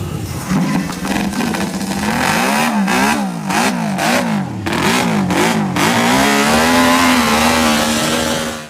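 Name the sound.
MV Agusta racing motorcycle engine starting and revving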